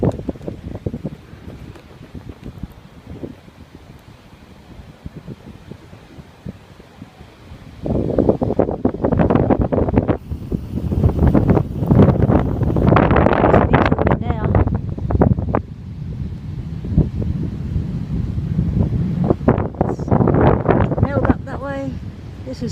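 Strong gusty wind under a jetty at Grange Beach, roaring and buffeting the microphone in heavy, sustained blasts that build partway through, with a person speaking briefly near the start.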